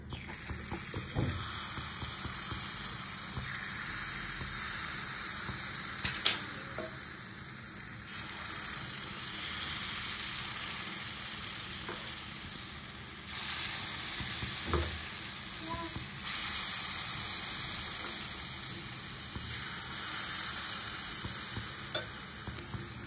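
Ragi sweet roti batter sizzles steadily in sesame oil in a pan, with a continuous crackling fry and a few faint stirring clinks, no talking.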